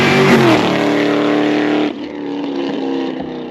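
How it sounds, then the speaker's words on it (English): A 5th-gen Camaro ZL1 V8 with long tube headers, a lower pulley and stock MPP exhaust roars loud and close, revving hard before the pitch drops and it settles into a steady, rumbling drone. "It also includes long tube headers, a lower pulley, and the stock MPP exhaust, which is how I have the car sounding like"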